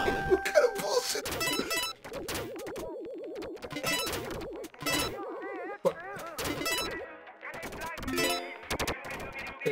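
Gunfire in the video game Duck Game crackles as rapid bursts of sharp shots over bouncy game music and effects, with players talking and laughing throughout.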